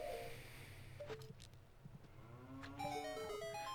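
A cow in the Ocarina of Time video game moos after being hit with a slingshot. There are two drawn-out tonal moos over a soft steady background, with short game effects between them.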